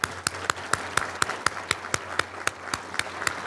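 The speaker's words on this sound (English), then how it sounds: "round of applause for our supplier community" Sharp, evenly spaced claps ring out in a steady rhythm at an Illinois government event, like a single pair of hands or a slow, sparse round of applause in a large room.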